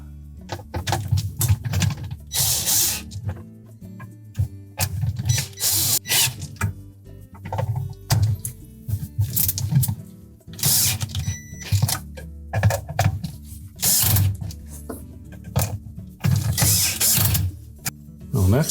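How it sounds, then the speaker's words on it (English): Four screws being tightened alternately while reinstalling a pump housing, giving repeated ratcheting clicks and metallic turning in steady bursts, close and fairly loud, with brief gaps between runs. "Tighten these screws alternately and make sure that we don't get any of them in there crooked."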